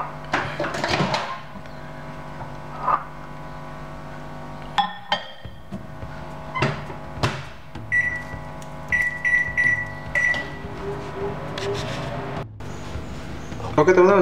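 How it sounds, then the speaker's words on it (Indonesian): A microwave oven hums as it heats a mix of oatmeal and Ichitan Thai milk tea, with clinks, a door knock and a few high beeps in the middle, while a person talks over it. "Langsung kita masukin ke microwave."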